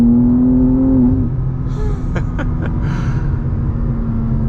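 A G87 BMW M2 CS with a transmission tune accelerates at half throttle: a loud, steady engine drone rises in pitch over the first second, then holds as a continuous rumble with a few brief clicks.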